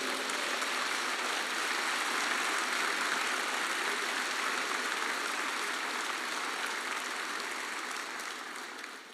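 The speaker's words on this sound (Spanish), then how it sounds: "¿Qué le parece si damos un aplauso a Jesús?" Men at a church retreat applaud Jesus, a broad, sustained roar of clapping from a large gathering that fills the room steadily and begins to fade only at the very end.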